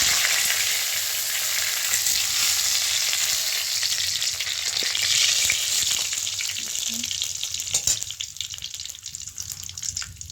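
Dry red chillies, dried and freshly picked bay leaves and whole garam masala sizzle in hot oil for a pointed gourd and prawn dish. A loud frying hiss gradually settles, with a few clinks near the end.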